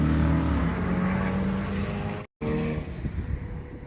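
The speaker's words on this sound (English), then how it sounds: "Little old Civic hatchback on the track with these things." A Honda Civic Type R hatchback laps the Laguna Seca race track during a track day, its engine a steady, close, droning roar that cuts out for a split second before carrying on.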